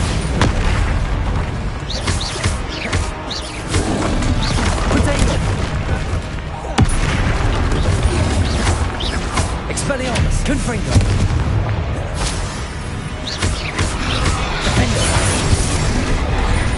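Confringo and Bombarda explosion spells in Hogwarts Legacy combat, repeated booming blasts and crackling impacts over a dense, loud battle soundscape with voices mixed in.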